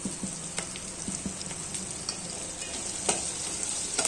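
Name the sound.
onion and pumpkin frying for sambar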